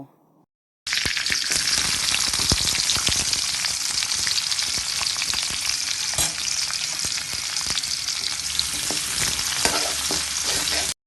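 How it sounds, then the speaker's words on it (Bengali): Chopped onions and tomatoes fry in hot oil for a pigeon curry, making a loud, continuous close-up sizzle with crackles and occasional stirring scrapes, starting abruptly after a short quiet moment. "তেলের মধ্যে দিয়ে দিব পেঁয়াজ কুচিগুলো পেঁয়াজ কুচিগুলো একটু নেড়ে চেড়ে এর মধ্যে দিয়ে দিব কিপ করে কেটে রাখা টমেটোগুলো"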